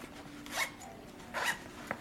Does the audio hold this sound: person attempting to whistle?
no